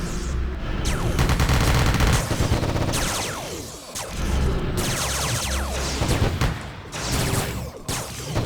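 Sustained SMG gunfire in the Anarchy Online video game, loud dense bursts that rattle on almost without pause, with brief gaps and a final sharp flurry.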